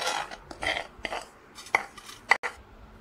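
Roasted rava tipped from a pan into a bowl, heard as a few soft scraping and clinking taps of utensil on metal with brief sharp knocks near the end, close and fairly quiet.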